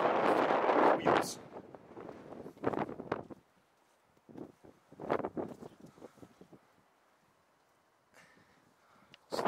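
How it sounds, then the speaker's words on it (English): Strong wind buffets the microphone outdoors in bad weather, with loud rumbling gusts coming and going in bursts between quieter pauses. "excuse the weather, I might have to get back in, the wind's really bad."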